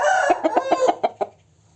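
A rooster crows once, close and loud, its call broken into quick choppy pulses before trailing into quiet.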